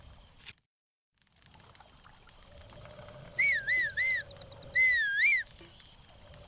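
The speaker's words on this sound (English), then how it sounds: "Wait, what am I whistling for?" Link whistling in Zelda Breath of the Wild: two clear whistled phrases, a short wavering run of three notes then a longer rising-falling tune, over a low steady ambient game backdrop with no talk.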